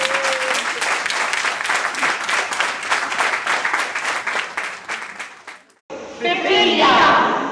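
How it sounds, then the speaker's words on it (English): A conference audience gives a big round of applause, with loud, even clapping that has a steady pulse for several seconds before it cuts abruptly to a different, brighter sound. "Let's hear a big round of applause."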